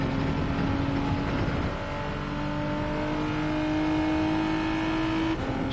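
A car engine revs steadily and strongly, its pitch holding then shifting as a gear is changed while driving on a rural road, loud and close throughout with no talking.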